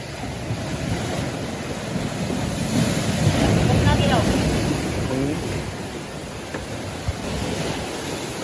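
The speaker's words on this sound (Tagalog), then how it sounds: "Laki talaga ng alon guys." Large ocean waves surging and crashing amid strong wind noise, a loud continuous wash with muffled voices speaking underneath.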